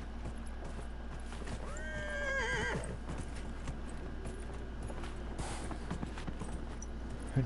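A horse in the video game Dragon Age: Inquisition gives one loud, descending whinny partway through, while hooves clop steadily underneath against a faint constant hum.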